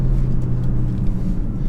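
Large 2017 Land Rover Discovery SD4 diesel SUV driven hard along a B road, heard from inside as a steady, loud low engine and road rumble with no speech.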